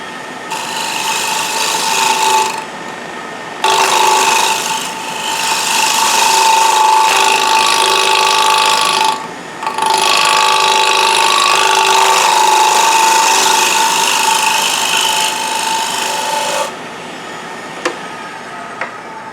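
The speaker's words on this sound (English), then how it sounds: "I can smooth that out also using the negative rake scraper." Negative rake scraper smoothing a spinning wooden sushi dish on a lathe, a loud steady scraping rasp in long bursts with brief pauses between passes, no talking.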